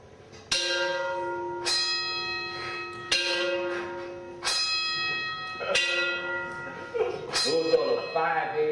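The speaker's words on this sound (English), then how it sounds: "Those are the 5 a.m. plantation bells calling black folks to work the sugar cane field." Plantation bells ringing at 5 a.m., about seven resonant strikes spaced a second or so apart, each ringing out and decaying, growing busier toward the end.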